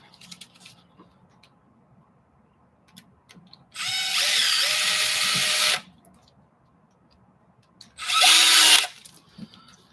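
A power screwdriver drives a screw into an RC car kit in two short bursts, one about two seconds long and a second shorter one, close and loud against a quiet background.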